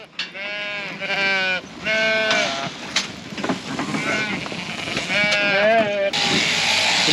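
Hogget ewes bleat repeatedly, loud and close, in a busy shearing shed, with voices talking over them and machinery humming underneath.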